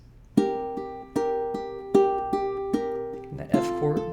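Ukulele picking out a song intro, clear plucked notes and strummed chords in a steady melodic phrase, close and moderately soft, ending with a brighter strum.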